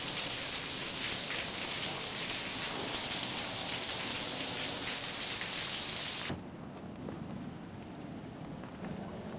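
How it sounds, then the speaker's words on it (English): Steady rain falling and pattering on surfaces outdoors, a dense hiss with some wind buffeting the microphone, loud at first and then dropping abruptly to a quieter level, with no one talking. "Rain, rain, rain."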